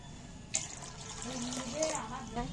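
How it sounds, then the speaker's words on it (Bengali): A mug of water poured into a pot for cooking lentils with water spinach: a brief splash followed by steady trickling and running water, close by, with faint kitchen noise underneath. "পোড়া বসিয়ে একমগ জল ঢেলে দিচ্ছি"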